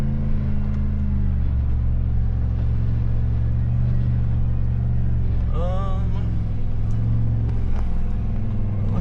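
An off-road vehicle crawls over a rough trail of large rounded rocks, its engine a steady close rumble with bumps and knocks throughout and a brief whine partway through.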